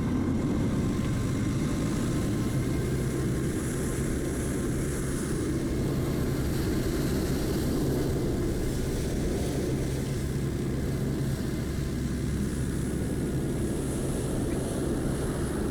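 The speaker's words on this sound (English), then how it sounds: "So you can watch that Airbus as we take off to the north here." An Airbus airliner takes off in Microsoft Flight Simulator 2024, its engines holding a loud, steady roar and rumble throughout with no break.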